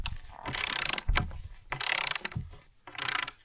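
A torque wrench ratchets on giant bolts in an extreme-cold cabin, giving bursts of rapid clicking in several separate runs with short pauses between them.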